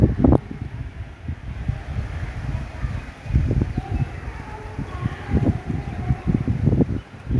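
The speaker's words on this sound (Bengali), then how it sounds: "প্রচণ্ড ঝড়ের মতো বাতাস" Strong, storm-like gusts roar and buffet the microphone outdoors on the Dhaka College grounds, surging in uneven waves, with faint bird calls behind.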